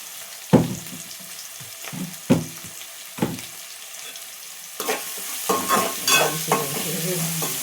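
Vegetables fry with salt in a pan for semiya upma, with a spatula scraping and stirring in distinct strokes over a steady sizzle that grows fuller and louder toward the end.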